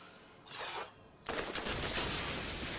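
Gunfire in the video game Borderlands, a whooshing burst followed by a dense, sustained volley of rapid shots that stays loud to the end.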